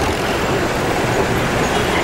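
Dense, continuous roar of road traffic at a busy street junction in a Cairo market area, engines and tyre noise blending into a loud, unbroken wash.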